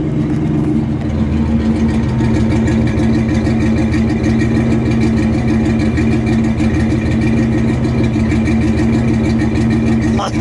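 A 1956 Chrysler 300B with a 354 cubic-inch V8 Hemi idles close up, a loud, even, steady rumble with a regular pulsing beat throughout.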